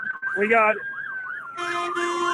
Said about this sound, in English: ambulances rolling in right now